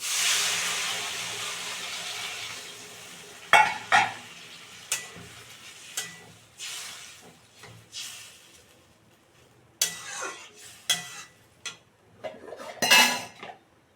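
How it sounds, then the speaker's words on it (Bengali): A little water is poured into hot potato curry masala in a pan, giving a soft steady hiss that settles into a sizzle, broken by sharp clinks and scrapes of a spoon stirring against the metal. "এবার দিয়ে দেবো জল অল্পই দেবো জল"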